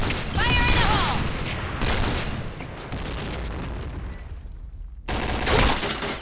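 Rapid gunfire and explosions in a bomb-planting shooting video game, dense and loud throughout, with sustained bursts of shots and a sharp cutoff partway before the firing resumes, and no voice heard over it.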